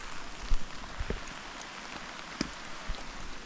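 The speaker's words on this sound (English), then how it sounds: "So it started raining even worse" Heavy rain falls on a mountain trail up Poland's Rysy peak as a soft, steady hiss with a few louder close drops or taps, faint overall and with no talk.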